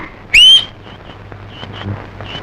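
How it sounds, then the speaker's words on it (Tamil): A person whistles once, a loud rising-then-falling whistle lasting about a third of a second at the start, followed by quieter chirps and background noise in a Tamil comedy film scene. "ஏன்டா நீ வேற விசில் அடிச்சு பயமுறுத்துற"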